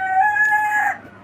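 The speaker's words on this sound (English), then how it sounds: "Especially rare roosters like that boy right there." A rare rooster crows once on a farm, a single drawn-out cock-a-doodle-doo lasting about a second, clear and close, then fading off, with no voices.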